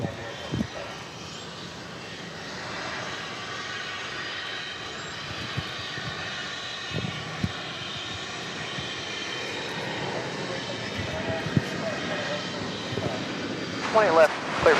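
An airliner jet engine roars steadily on takeoff at DFW Airport, a broad sustained rumble heard from a distance with light background noise.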